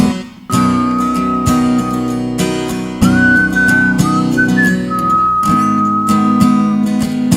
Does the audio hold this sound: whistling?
yes